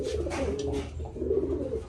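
A loft packed with fancy pigeons, Jacobins among them, fills with continuous overlapping cooing, close and fairly loud with no voices.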